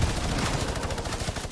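A minigun in an online video game fires a rapid, unbroken stream of shots, loud and close, with the burst continuing steadily throughout.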